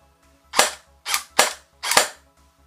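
CYMA CM.125 airsoft rifle fires four semi-automatic single shots, sharp snappy cracks spaced roughly half a second apart, close and alone.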